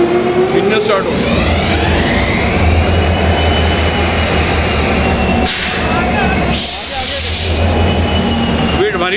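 A train at a railway station in Dehradun runs with a loud, steady engine rumble and drone, with tonal whines and brief bursts of hiss rising above the constant noise.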